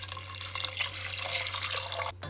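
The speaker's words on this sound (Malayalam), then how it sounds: "ആവശ്യത്തിന് വെള്ളം ഒഴിച്ച് വേവിക്കണം" Water pours into a pot of lentils, green chilli, salt, turmeric and curry leaves for Kerala Onam parippu curry, a close steady splashing gush that cuts off abruptly.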